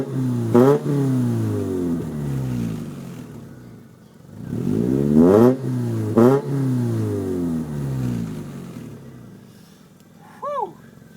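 A street car's engine revs hard through a new exhaust tip, climbing and falling in several loud, close throttle blips before settling to a rumbling idle.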